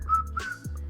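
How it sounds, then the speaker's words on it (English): A person attempts a half whistle, producing a thin, breathy tone that wavers and breaks off, then resumes briefly, faint and close with no talking. "I'm not a good whistler. It's like a half whistle."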